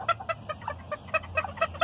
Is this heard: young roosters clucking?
yes